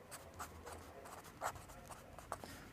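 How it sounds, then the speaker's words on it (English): Handwriting with pen on paper while conjugating Greek verbs and adding accents: quiet, close scratchy strokes in short bursts, a few sharper taps, with no speech. "Notice how I'm also writing the accents."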